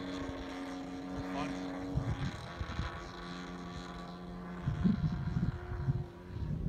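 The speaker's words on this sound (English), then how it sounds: "He's just breaking the motor in gently." A Vertigo 2M RC helicopter's motor runs gently on its maiden flight during break-in, giving a steady, moderately loud electric hum and whine that swells slightly in a few places.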